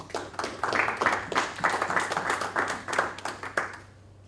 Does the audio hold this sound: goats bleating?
no